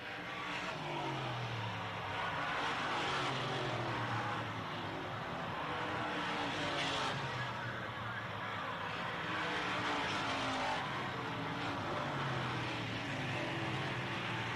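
Late model race cars roar around Selinsgrove Speedway in a 1991 race, a steady dense engine drone from a distance with swells as cars pass, continuous throughout with no talk.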